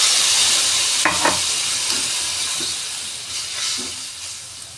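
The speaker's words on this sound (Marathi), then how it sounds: "बटाटा शिजण्यासाठी त्यात थोडे पाणी घालून घ्यायचे आहे" Potato pieces sizzle hard in a hot pan as water goes in, making a loud hiss that eases off gradually, with a few stirring scrapes and no voices.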